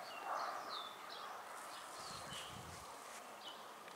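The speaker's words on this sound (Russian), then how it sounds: "Поют красивые птицы." Birds chirp and sing outdoors in a countryside dacha area, several light calls scattered over a steady background hum, fairly faint and at a distance.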